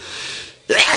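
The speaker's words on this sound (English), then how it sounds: "I got to sneeze here." A single sharp sneeze bursts out after a brief quiet moment, close and loud, with a breathy rush trailing after it.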